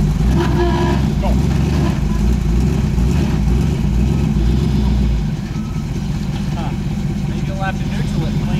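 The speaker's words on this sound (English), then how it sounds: "Get it revved up a little and then let her go." Jeep engine revving hard in low gear while crawling through rough off-road terrain in Hog Canyon, a loud steady roar that eases slightly partway through, with a voice speaking over it.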